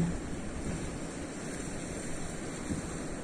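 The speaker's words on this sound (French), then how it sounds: "Il n'y a aucun bruit à part celui de la mer." Soft, continuous wash of sea waves with a faint breezy rumble, steady and distant-sounding, no voices.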